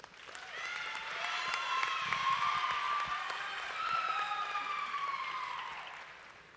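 A convention audience gives a sustained round of applause for the finalists, steady clapping with a tonal, siren-like music line running through it.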